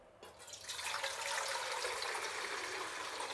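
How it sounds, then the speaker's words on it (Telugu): Water poured into an idli steamer pot in a kitchen, a steady rushing pour that starts abruptly and continues evenly, close and fairly quiet. "దానికి ముందర ఇడ్లీ పాత్రలో నీళ్ళు పోసి పెట్టేసినామంటే"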